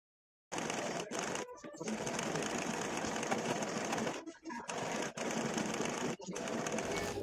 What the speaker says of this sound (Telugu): ఈ విధంగా పెట్టేసి ఇప్పుడు పైన వైపు స్టిచ్ చేసుకోవాలి.